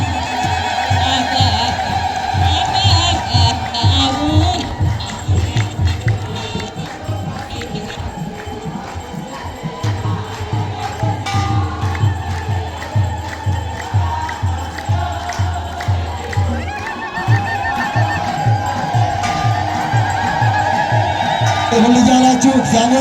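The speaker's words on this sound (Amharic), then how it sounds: "እልል እያላችሁ እግዚአብሔርን አመስግኑ።" A large crowd ululates in praise during a religious tabot procession, a dense, loud, sustained wall of high trilling voices and cheering that continues without a break.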